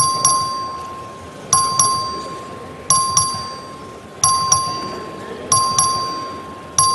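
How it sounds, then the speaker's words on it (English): A bright electronic voting bell in a legislative chamber chimes repeatedly in short double strikes, each ringing out and fading, in a steady pattern with no talking. "Clerk, ring the bell."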